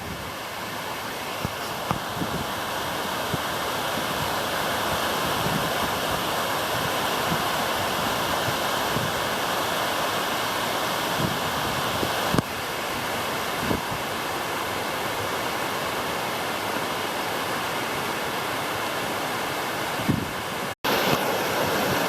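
Water pouring over Maldon Weir in a steady, loud, broadband rush that holds for over twenty seconds, close by, with a few faint knocks and no talking.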